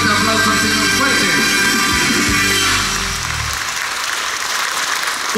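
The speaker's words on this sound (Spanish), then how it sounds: "Denle ese fuerte aplauso al Señor" Loud, sustained applause at a spiritual retreat in Tiltepec, Nopala, with clapping and crowd noise under music tones, easing slightly in level after about three seconds but continuing to the end.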